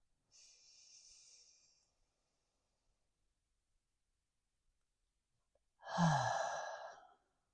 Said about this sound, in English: let's just take a breath